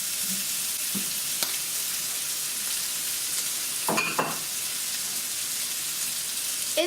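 Browned steaks for tacos fry in a pan with a soft, steady sizzle, interrupted by a few brief clinks and scraping stirs, close and fairly quiet, with no speech.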